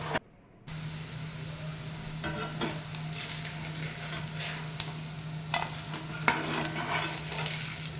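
Vegetable liver fry pieces crackle in hot oil in a pan with a steady, soft sizzle, broken by several scraping stirs and light clinks.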